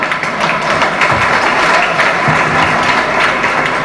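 An audience at a motivational talk on the Sanskrit language claps in a dense, loud, continuous burst of applause that holds steady for several seconds.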